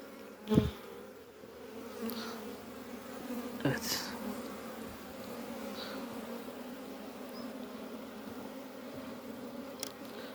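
Steady low buzzing of many honey bees close by at the hive, a continuous drone with a few sharp knocks and clicks over it.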